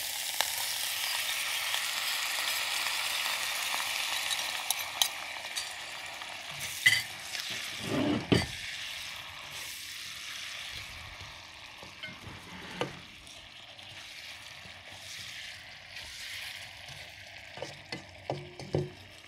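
Steady sizzling of sa cha sauce frying in a pan with cooking oil, with occasional scrapes and clacks of a utensil stirring, close and fairly quiet throughout.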